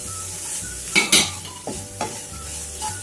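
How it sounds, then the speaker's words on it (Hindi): Onions and flour (maida) fry with spices in a pan, a soft sizzle under several sharp scraping stirs of a spoon against the pan, heard close and without speech. "अब इसमें हम मैदा डालेंगे और बिल्कुल हल्की हम इसको 1-2 मिनट के लिए भूनेंगे।"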